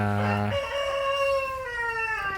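A rooster crows once, loud and close, a long drawn-out call with chickens around it on a backyard farm.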